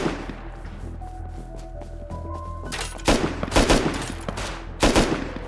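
Gunfire in the survival game Rust, with a quieter stretch of distant shots followed by a loud cluster of close, rapid bursts and a final cracking volley.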